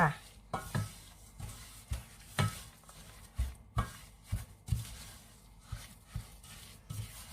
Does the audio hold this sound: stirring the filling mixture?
yes